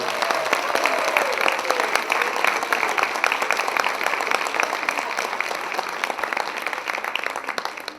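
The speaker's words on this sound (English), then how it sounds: "So just a quick round of applause for all 5 of them." A school district audience at a retirement celebration applauds five retirees with dense, steady clapping that fills the room. The applause stays full and even from start to end, with a few scattered voices mixed in.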